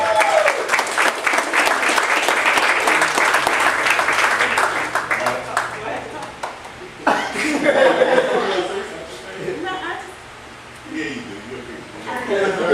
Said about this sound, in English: Once again, can we get a round of applause for Minister Raya.